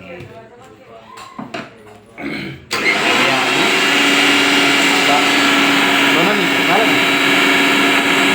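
A mixer grinder starts after a few seconds of clattering and handling noise, then runs loud and steady with a constant whirring drone to the end, with a voice speaking briefly before it starts.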